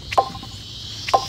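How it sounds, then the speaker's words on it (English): Cicadas drone outdoors as a faint, steady high hiss, broken by two brief, sharper chirps close by, with no talk. "I am outside, that's why you hear cicadas"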